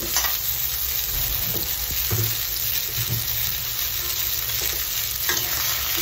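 Pumpkin and onions are stir-fried in a pan, with a continuous loud sizzle and occasional soft scrapes of stirring close by, steady throughout and with no talking.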